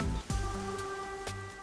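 Rain in the video game Master Detective Archives: Rain Code patters quietly and steadily beneath sustained tones, with a few sharp, brief clicks.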